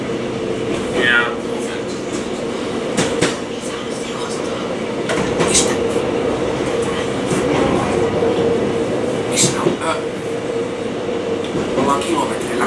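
A Finnish passenger train runs along the track on the Helsinki–Porvoo line, a steady loud rumble with clicking wheel joints and occasional brief squeals, heard close and continuous throughout.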